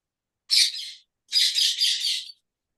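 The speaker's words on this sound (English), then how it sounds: "Me parrots. Oh God, in the balcony shrieking away." Pet parrots on a balcony give two loud, harsh shrieking calls, a short one followed by a longer one, close and alone with nothing else around.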